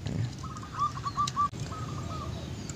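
Soft, faint zebra dove coos sound in short rhythmic phrases, repeated twice over low background noise.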